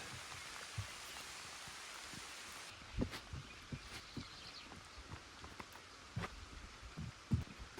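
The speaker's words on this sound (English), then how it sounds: "That rain really did get quite heavy" Heavy rain pours steadily at an outdoor building site, a dense hiss of drops with scattered louder taps and thuds on nearby surfaces, no voices.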